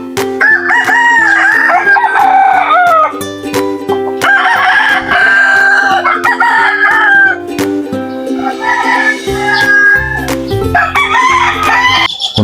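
Gamefowl roosters crowing loudly and repeatedly, several long cock-a-doodle-doo calls overlapping one another close by, over constant background clucking and farmyard noise.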